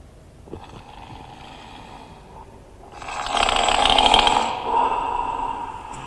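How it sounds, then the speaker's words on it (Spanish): A single long, rough snore from a person with sleep apnea builds over several seconds, loud and close, rattling at its peak before tapering. "Ronca."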